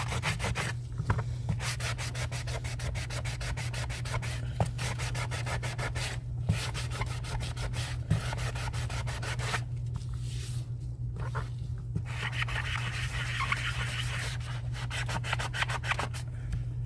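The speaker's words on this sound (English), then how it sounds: "Let's see how this stuff sands." Hand-sanding a cast resin tray gives a steady, continuous abrasive rubbing with a low hum underneath, close and even in level, without pauses, for the whole stretch.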